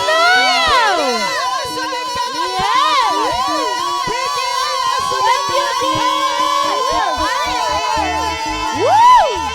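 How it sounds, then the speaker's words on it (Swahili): A church congregation at a conference service in Calvary Sifa Church, Moi's Bridge, cheers loudly and continuously, with many overlapping voices whooping and shouting throughout and possible clapping mixed in. "Pigia Yesu makofi."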